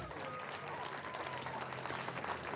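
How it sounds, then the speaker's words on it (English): Applause at a James Monroe High School ribbon-cutting ceremony greets the school leadership team: a steady, dense wash of clapping from an audience that carries evenly for a couple of seconds. "give them a round of applause"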